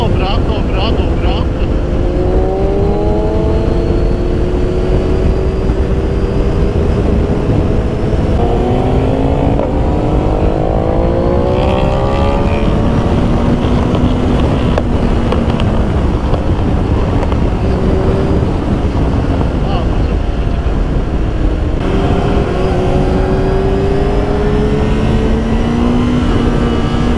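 A Honda CBR 900 RR Fireblade sport motorcycle being revved during clutch-up wheelie practice, its engine note rising and falling in repeated sweeping pulls, with people talking over it throughout.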